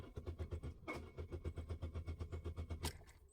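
A car engine cranks without starting because a copied key lacks its immobilizer transponder; the starter churns in a fast, even chug of pulses for about three seconds, close and clear, and never catches.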